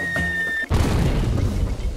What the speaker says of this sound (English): Oh, it's a mortar.